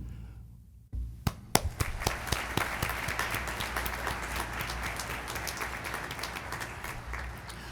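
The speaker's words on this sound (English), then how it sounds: "Let's give one more round of applause to these 4 distinguished alumni." After a silent beat, a commencement ceremony crowd breaks into applause for distinguished alumni, a few sharp early claps swelling quickly into a thick, sustained wash of clapping.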